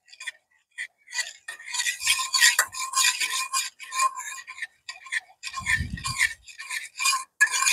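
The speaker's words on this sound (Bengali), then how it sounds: "আমরা এই একটু তেলটাকে নেড়ে নিলাম।" A spoon stirs cooking oil in a pan left to heat under strong sun, making close, repeated scraping and rasping strokes in an uneven rhythm, with one soft low thump partway through.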